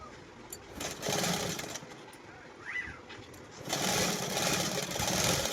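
Sewing machine stitching fabric in bursts, a close, rough mechanical whir that swells and eases, with a faint bird call in the background.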